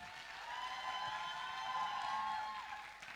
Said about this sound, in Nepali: एक पटक तालीको आवाज सुन्न पाए हुन्थ्यो.